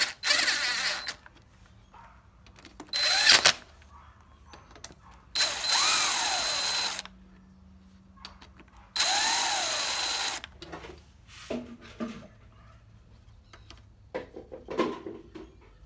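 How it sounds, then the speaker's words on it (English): A power drill driving bolts on a Yamaha F115 outboard motor whirs in several short bursts of a second or two each, separated by pauses with light clanking, close up. "I'm first going to lightly go in with my drill."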